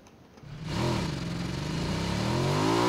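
A motorcycle in PlayerUnknown's Battlegrounds catches and revs up, its engine note sweeping upward and then holding a loud, steady, buzzing whine close by with no talk over it.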